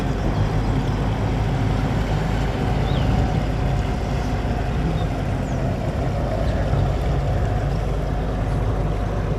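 A boat engine rumbles steadily as a tour boat sets off from Seahouses Harbour, with water and wind noise throughout, a continuous low drone with no voices.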